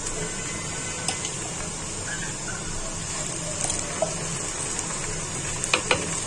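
Ginger garlic paste hits a hot pan of cumin seeds and sizzles with a steady, moderate hiss. A few faint clicks and taps come through, with no talking.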